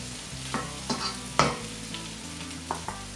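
Boiled rice being stirred into spicy egg masala in a pan for Palakkad-style egg fried rice, a low sizzle with several distinct scraping strokes and clinks from the spatula, close and unaccompanied by talk.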